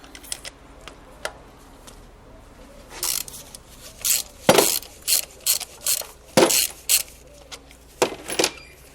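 A ratchet wrench loosening a spark plug on a Nissan Micra K12 engine, a series of close, crisp clicking bursts in quick irregular strokes with brief pauses between.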